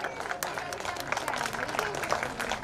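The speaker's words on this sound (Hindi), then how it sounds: "आप लोग सब आइए और इन चारों का जोरदार आप तालियों से स्वागत कीजिए।" An audience at an award welcome breaks into warm, steady applause, a dense patter of many hands clapping at moderate volume, with speech running under the clapping.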